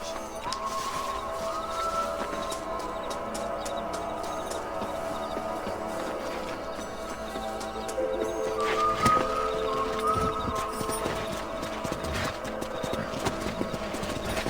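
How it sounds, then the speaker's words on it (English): Horse hooves clopping at a steady gallop while riding out to patrol a ranch in the Red Dead Redemption video game, a continuous rhythmic beat under game music and ambience, with brief voice snippets. "Let's mount up and patrol the ranch."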